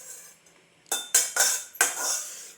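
Boiled susur root vegetable is scooped into a plate with a metal utensil, four sharp clinks and scrapes of metal on dishware in quick succession, close and fairly loud.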